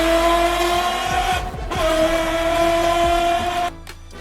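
A man vocally imitates a fancy car engine, a loud, sustained revving drone that steps up in pitch, briefly dips, then surges again before cutting off near the end.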